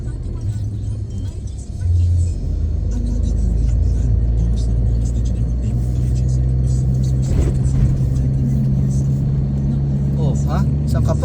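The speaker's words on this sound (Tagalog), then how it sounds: "Tricycle nga, nakaakyat eh" Motorized tricycle climbing a road up to a hillside viewpoint, its engine whirring and revving steadily and growing louder after a couple of seconds, with people talking throughout.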